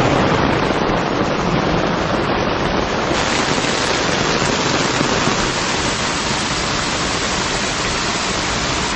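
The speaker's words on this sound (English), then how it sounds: "Got the rain tent up and it started pouring." Heavy rain pours steadily onto a tent at a campsite at Ginnie Springs, a dense, continuous roaring hiss that stays loud and unbroken throughout, with no voices.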